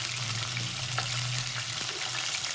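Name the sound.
chicken frying in a pan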